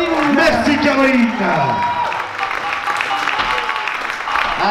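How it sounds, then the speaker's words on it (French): Audience at a French comedy club applauding a comedian, a loud, steady wash of clapping with some cheering, while people talk and shout over it close by. "On applaudit Caroline."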